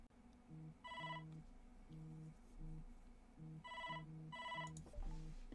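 A phone rings with a repeating electronic ringtone: short bursts of bright tones in a steady pattern, close and clear, with no one speaking.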